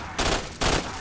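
Two loud, close bursts of heavy gunfire from ultra powerful guns in a Roblox zombies shooter, each a dense blast lasting roughly a third of a second, with no voices over them.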